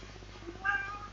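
A single short meow from a house cat, close and fairly soft, over a quiet room hum.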